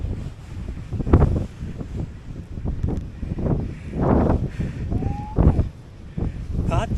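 Strong mountain wind on Kondarangi hill roars and buffets the microphone in steady gusts, with voices talking over it.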